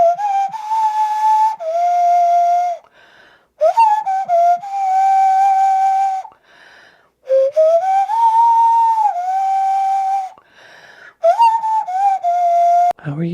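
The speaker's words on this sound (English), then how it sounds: "That's a nose whistle." Nose whistle played as a little novelty instrument, giving loud, pure, sliding whistled tones in phrases of a few seconds, with brief pauses between them and no voices.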